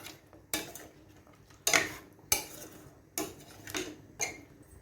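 A spoon stirs mutton gravy in a metal pot, giving five or six sharp clinks against the side at irregular intervals, with quiet gaps between them.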